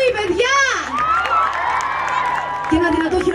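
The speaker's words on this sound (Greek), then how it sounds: "Πάμε λίγο να χειροκροτήσουμε λίγο το μαέστρο μου" A crowd of adults and children at a live outdoor show cheers and whoops for the conductor, with bright shouts rising and falling steadily over a few seconds; any clapping is buried under the voices.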